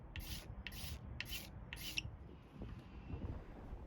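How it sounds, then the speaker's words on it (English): Electric sander stripping the old finish from a wooden mid-century accent chair, four short regular rasping strokes followed by a continuous softer sanding rub, close and fairly quiet. "So I actually just jumped to using the sander."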